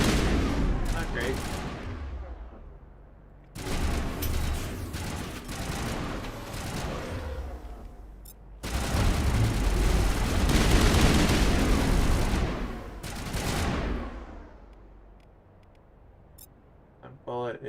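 Sustained bursts of gunfire in the sci-fi shooter Mass Effect Legendary Edition, loud, dense and rattling, arriving in several long volleys separated by brief lulls.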